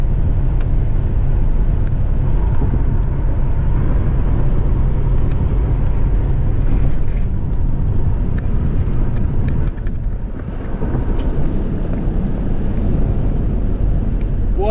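Steady broadband road and engine rumble from a Buick Riviera cruising at about 60 mph with vibrating tires, loud and continuous throughout, with no talk over it.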